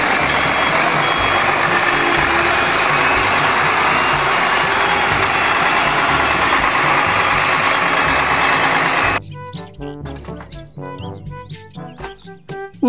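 A concrete mixer truck in a children's toy vehicle setting: loud steady engine roar with repeated reversing beeps for about nine seconds, then cutting abruptly to a lighter, melodic musical passage with bright tones.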